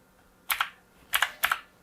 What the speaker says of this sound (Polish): programować przyciski z poziomu klawiatury